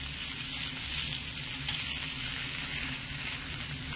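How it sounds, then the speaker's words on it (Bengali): Mixed vegetables fry under a lid in a pan for a vegetable kachori filling, giving a steady, soft, continuous sizzle with faint bubbling and no voices. "আর সবজিগুলো ঢাকা দিয়ে দিয়ে ভাজতে ভাজতে দেখবেন অনেকটাই নরম হয়ে আসবে।"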